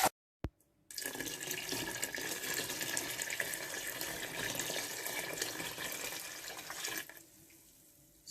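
Water pours steadily into a pot for a homemade zobo hibiscus drink, a continuous splashing rush lasting several seconds after a couple of brief knocks, then stopping abruptly.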